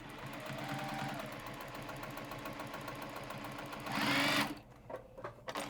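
A Juki sewing machine runs steadily as it stitches through material, a close, continuous mechanical whir with a short louder burst near the end before it slows and stops.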